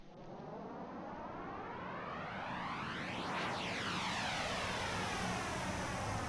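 A sound effect in Xenosaga Episode 1 imitates an aircraft roaring overhead, a broad whooshing rumble that sweeps and shifts in pitch as it passes, growing slightly louder over several seconds with no speech.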